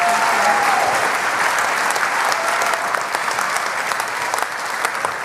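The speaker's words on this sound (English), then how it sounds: "Let's give them one more round of applause." Sustained audience applause at an annual benefit cook-off, a dense, steady wash of many hands clapping that continues unbroken and fairly loud, with no voices rising above it.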